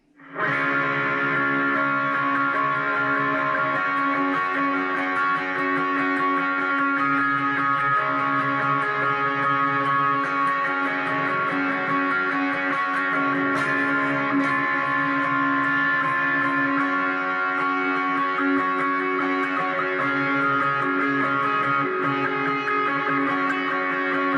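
A sustained electric guitar chord in an A shape rings out with heavy effects and reverb, washing loud and steady for a long stretch without any voice.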